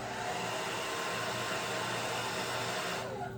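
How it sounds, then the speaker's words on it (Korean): A hair dryer blows with a steady, close whooshing roar and faint whine, drying wig bangs, cutting off just before the end. "드라이기로 앞머리를 바짝 말려줍니다."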